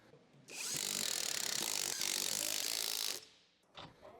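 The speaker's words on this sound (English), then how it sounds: "use the 21mm deep socket with your impact to run them down" An impact wrench fitted with a 21mm deep socket runs down wheel bolts after a strut assembly install on a Ford F-series truck: one loud, close, sustained buzzing whir of about two and a half seconds, followed by a few brief clanks.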